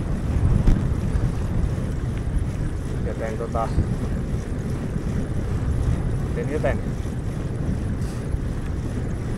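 Strong stormy tailwind roaring and buffeting the microphone in a constant low rumble while cycling on a road in Finland, with a person speaking briefly underneath.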